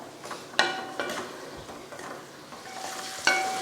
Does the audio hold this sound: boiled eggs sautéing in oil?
yes